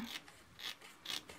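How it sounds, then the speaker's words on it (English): Overhanging paper is trimmed off the edge of a handmade greeting card, heard as a few short, crisp cutting snips spaced about half a second apart while a person talks over them. "what I cut off is actually overhanging here, so I'm just going to trim that"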